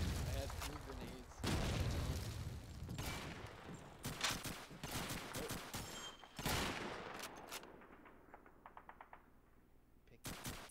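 Call of Duty 2 multiplayer combat, with booming blasts that fit a grenade explosion and rapid gunfire bursts. Someone talks over it while the shots come near and loud, then fade into sparser crackles.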